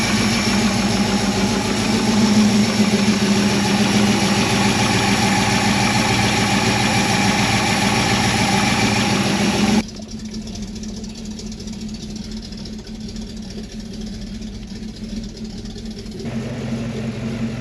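An XC Ford Falcon panel van engine idles with a freshly fitted carburettor, a loud steady rumble with a rough knocking beat, dropping slightly in level partway through and then picking back up.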